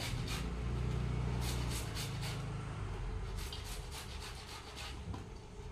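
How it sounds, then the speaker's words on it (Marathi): Tender bamboo shoot grated by hand on a grater, a faint continuous rasping scrape with repeated rubbing strokes, close and quiet. "तर याला किसून घेत आहे। हे खूप लवकर किसून होते।"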